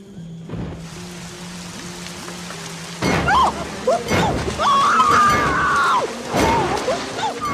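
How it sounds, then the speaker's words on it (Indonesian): Heavy rain pours over a remote island camp, a dense hiss of falling water with sharp cracks and crashes breaking through, alongside shrill whistling and squealing tones layered in the middle. "James dan Kate memutuskan untuk masuk ke tenda saat hujan turun dengan lebatnya."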